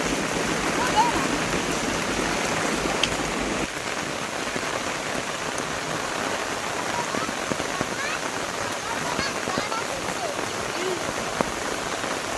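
Heavy rain pours steadily on a home vegetable garden, a dense even roar of drops hitting leaves and ground that lasts throughout, close and unbroken, with faint voices underneath.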